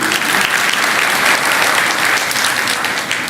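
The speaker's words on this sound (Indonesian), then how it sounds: "Kasih tepuk tangan, love you." A church congregation at a sermon breaks into dense, steady applause that stays loud and even for the full stretch, with no speaking voice over it.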